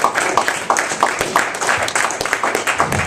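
Steady audience applause at a comedy night in a bakery and cafe, a dense crackle of many hands clapping for a few seconds with a few voices mixed in.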